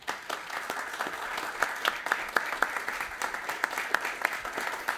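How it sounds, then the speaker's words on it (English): Audience at a city council candidate forum applauds, a steady patter of many hands clapping at moderate distance, with sharper individual claps standing out. "And I think they deserve a round of applause."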